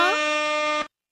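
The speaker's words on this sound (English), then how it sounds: "hip hop air horns for Miss Tina, for Mama Tina." A single loud, sustained horn blast with a brassy, buzzing tone that bends up slightly at the start, then cuts off abruptly after under a second.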